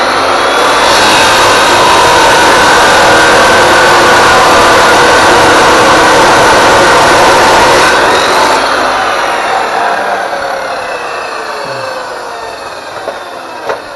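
Loud, steady power-tool grinding as an abrasive cutter slices through a small metal piece in a diesel technology shop, a dense harsh roar holding for about eight seconds before easing down and tapering off as the cut finishes.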